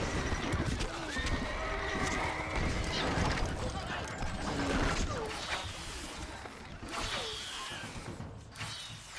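Horse neighs and clip-clopping hooves from the video game Stronghold Crusader, mixed with busy in-game battle noise and clatter at a steady moderate level.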